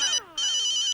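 A mobile phone ringtone plays loud and close, a bright electronic melody that pauses briefly and then resumes before cutting off, with no voices over it.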